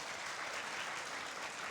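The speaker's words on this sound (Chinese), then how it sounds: "我们也给他们热烈掌声" An audience at a global Hakka culture conference breaks into steady, dense applause, clapping evenly throughout at a moderate distance with no speech.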